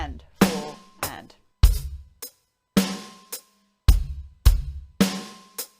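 Beginner drum kit groove with hi-hat and snare plus an added bass drum on the and of three, played as a steady sparse pattern of punchy hits with brief gaps, close and loud, no talking.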